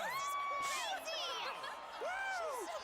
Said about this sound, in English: I turn around at the loud cheer.